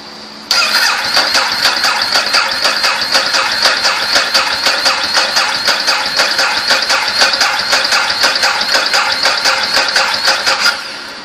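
Ducati motorcycle engine cranking on an Antigravity Micro Start jump starter, a loud, close, steady whirring starter churn with a rapid pulsing rhythm that runs for about ten seconds without catching, then cuts off.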